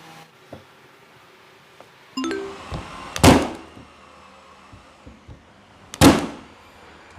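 An electric staple gun drives 20 mm staples into plywood in two sharp, loud bangs a few seconds apart, with a few softer knocks and handling thuds between them.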